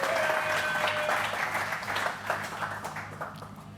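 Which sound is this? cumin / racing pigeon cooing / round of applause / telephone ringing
round of applause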